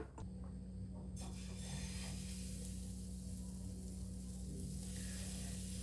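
Adai batter sizzles steadily on a hot pan, a close, continuous frying hiss that holds evenly throughout with no voices.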